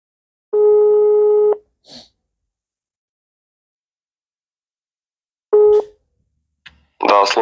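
Two telephone ringback tones sound during an outgoing call to grain buyers about selling sunflower seed. The first tone is about a second long and the second, after a long silence, is shorter. A voice answers at the end.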